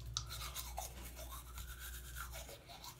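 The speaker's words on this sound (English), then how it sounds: "And then I'm brushing my teeth," Toothbrush bristles scrubbing teeth close up during a morning routine, a steady wet, fizzy brushing made of quick repeated strokes that carries on the whole time.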